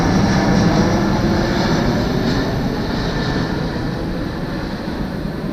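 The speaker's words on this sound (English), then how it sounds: "Look at that plane." Airplane passing overhead close to an airport beside a river, a loud steady broadband roar that slowly eases, with no talking.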